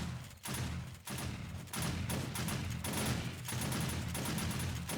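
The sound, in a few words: shotgun turrets firing in video game 7 Days to Die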